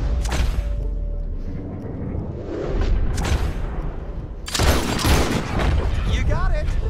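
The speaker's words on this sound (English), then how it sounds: "Don't think too much about it. Just shoot." Red Dead Redemption 2 gunfire bursts out in a few loud cracks and booms, at the start, around three seconds and near the end, over a continuous backdrop of voices and game sound.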